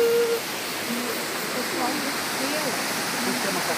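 A river rushes through woods where people are swimming, giving a steady, broadband roar like a waterfall or fast stream. It stays constant throughout with faint voices underneath.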